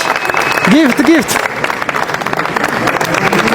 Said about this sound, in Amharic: በደንብ አጨብጭቡላት።